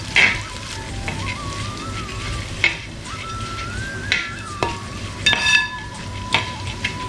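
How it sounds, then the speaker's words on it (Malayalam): Parippu lentils fry in ghee in a pan, a soft continuous sizzle broken by repeated scraping stirs, with a thin whistling tone drifting underneath. "ഈ നെയ്യിലിട്ടിട്ട് നമുക്ക് പരിപ്പിനെ നന്നായിട്ടൊന്ന് വറുത്തെടുക്കാം"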